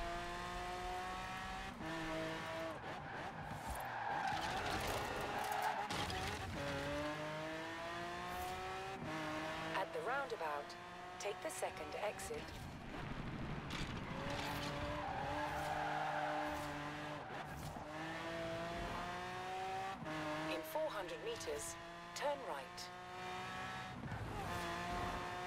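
A Lamborghini Aventador races in the video game Forza Horizon 4, LEGO Valley, its engine revving hard and climbing through repeated gear shifts, with brief tire squeals, loud and continuous throughout.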